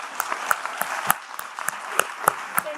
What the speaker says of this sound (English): So perhaps a big clap for these wonderful artists